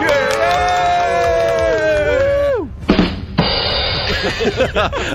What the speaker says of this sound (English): I love that we're cheering for you